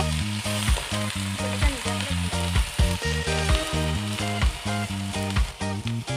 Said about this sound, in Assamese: আমি প্ৰথমতে তেলত দিম দুখিলা তেজপাত দিয়াৰ পাছত দিম আদা, ৰচুন আৰু পিঁয়াজৰ পেষ্টটো